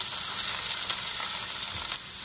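Garlic sizzles steadily in a hot pan as the base of a Japanese-style chicken curry, a dense, even frying hiss that fills the moment with no talk.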